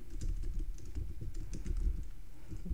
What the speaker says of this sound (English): We're going to type plugin